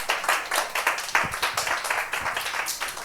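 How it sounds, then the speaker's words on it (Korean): An audience at a free public Bible study lecture claps steadily in a continuous patter of applause that holds at a moderate level, with no voices over it. "장로님 나오실 때 큰 박수 부탁드리겠습니다."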